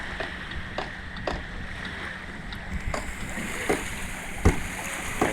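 A fishermen's boat being pushed into the water over leather balloon rollers on an open shore, heard as scattered dull thumps and knocks over a steady outdoor wind-and-surf background.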